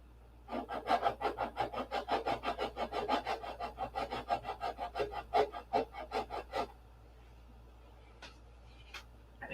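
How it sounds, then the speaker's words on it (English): Rhythmic hand sanding strokes on a P-47 model airplane fuselage, close and distinct, running steadily for several seconds before stopping, followed by a few faint knocks. "So we'll do an hour of sanding,"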